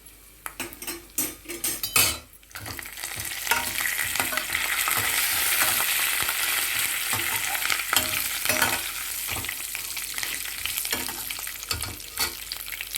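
Curry leaves spluttering and frying in hot oil for spiced sambar-powder rice, a steady close sizzle with clinks of a ladle stirring against the pan, no talking.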